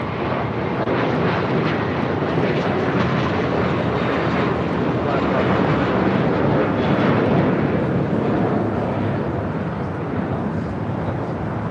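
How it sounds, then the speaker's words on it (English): A JetBlue Airbus A321 takes off on runway 25 right at LAX, its jet engines giving a loud, continuous, even roar that fills the whole stretch without easing. "Got that JetBlue A321 now taking off on 25 right."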